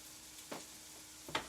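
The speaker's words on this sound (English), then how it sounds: "so that's frying up nicely" Basmati rice frying in a pan gives a steady low sizzle, broken by two short louder bursts of crackle as it is stirred, heard near and alone.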